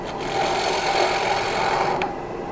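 A gouge cuts steadily into a cherry wood bowl blank spinning on a lathe, a continuous loud, close rasping hiss that fades slightly at the end.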